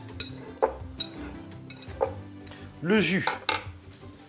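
Grey shrimp with olive oil and pepper being mixed in a bowl: close clinks and scrapes of a utensil against the dish, with someone speaking briefly partway through.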